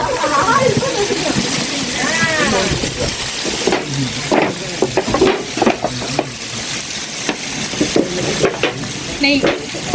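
Onions, curry leaves and green chillies sizzle and get stirred in a large pan of biryani masala, a steady frying hiss broken by scraping stirs, with people talking over it throughout.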